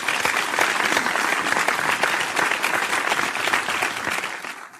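A studio crowd applauds steadily, dense clapping holding loud and even before tapering slightly at the end.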